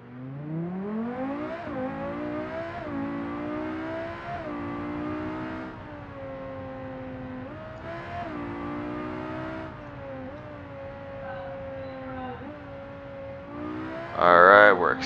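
A Civetta Scintilla's engine revs and accelerates in a racing video game, pitch climbing and dropping through repeated gear shifts, loud and steady, with a brief burst of harsher noise near the end.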